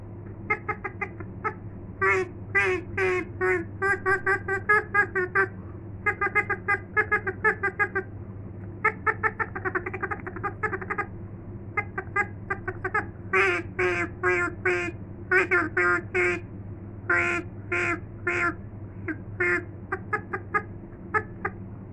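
A homemade call imitating a wild mallard duck quacks in repeated bursts of rapid, raspy notes, close and fairly loud, over a constant low background hum.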